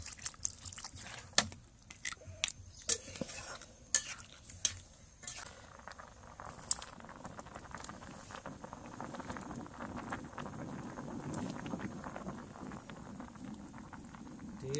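A pot of crab curry with Sundarbans crabs simmers after water is added, giving a faint, steady bubbling. A few light clinks of utensils come early on.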